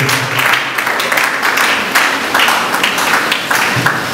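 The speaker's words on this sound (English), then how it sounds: "A round of applause." An audience at a teaching conference applauds the convener with steady, dense clapping that stays close and fairly loud throughout, without pauses.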